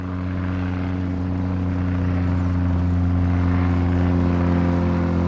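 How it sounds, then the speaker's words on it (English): Airplane flying sound effect: a loud, steady droning propeller engine with a low hum, holding constant throughout. "Now it's Pete's turn to fly"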